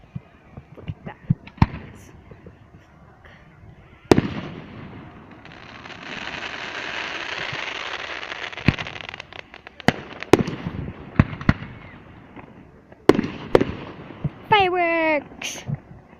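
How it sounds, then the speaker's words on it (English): Canada Day fireworks burst outdoors in a run of sharp bangs and pops, some loud and close, with a sustained crackling shower in the middle and a rising whistling rocket near the end; a few voices are heard amid the blasts. "Fireworks!"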